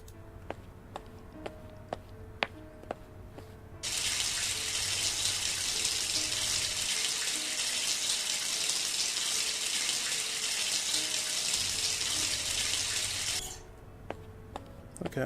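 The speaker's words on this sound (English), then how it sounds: "I go to the bathroom to take a nice shower" Shower water runs steadily in a bathroom, a broad loud hiss that starts abruptly, holds for about ten seconds and then cuts off, with faint ticking and room noise before and after.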